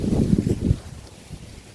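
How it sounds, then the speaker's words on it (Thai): Wind gusts across rice fields and blusters into the microphone in low rumbling surges that ease off after about a second, leaving a softer steady rush. Nobody speaks. "ลมพัดเข้าพี่น้องเอ้ย"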